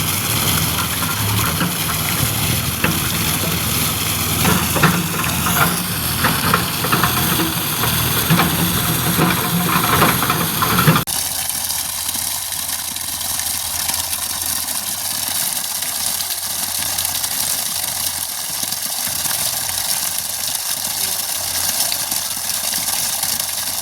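A 5 HP electric water pump motor running at a farm pond, with a steady, loud mechanical hum and rushing water throughout that shifts abruptly in tone about halfway, with no one talking.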